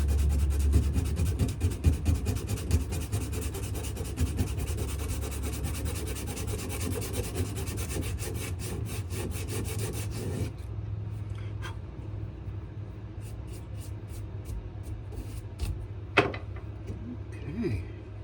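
A knife handle is sanded by hand with a steady, rapid rubbing rasp over a low background hum. The rubbing stops partway through, leaving only sparse light scrapes and a few small knocks.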